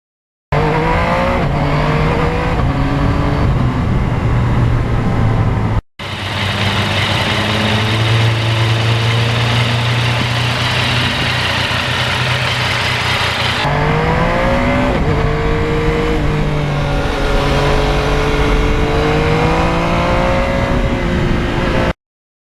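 A 2020 Yamaha MT-09 motorcycle on the road, its engine loud and close and droning steadily. The pitch rises and falls as it revs through the gears, with a brief cut partway through and rushing wind underneath.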